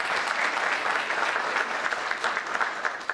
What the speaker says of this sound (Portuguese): Marlene Rodrigues, a quem eu peço uma salva de palmas